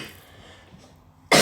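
A single short, loud cough bursts out suddenly at the very end, after a near-silent stretch of faint room noise.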